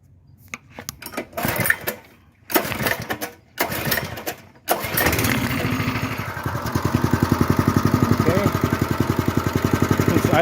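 Small engine running on choke after a pull start, settling into a steady, rapid idle chatter that grows louder and more even over the final half, preceded by a few short bursts of pulling and handling noise.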